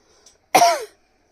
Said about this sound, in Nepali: खोकी लगाइरहेको छ डन्ट माइन्ड